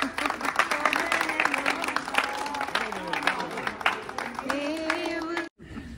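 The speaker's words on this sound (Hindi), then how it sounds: "बहुत अच्छा भाई, तालियां।" Audience clapping at a yoga awareness march gathering, uneven crowd applause heard under a voice talking over it, then a sudden brief cut near the end.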